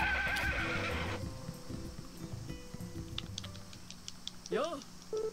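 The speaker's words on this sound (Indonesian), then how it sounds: "Ini kuda aku ngapain di sini anjir." Horse whinnies in the farming game Story of Seasons: A Wonderful Life, a loud rising-falling neigh near the start and another near the end, with clip-clop hooves, chimes and game music in between.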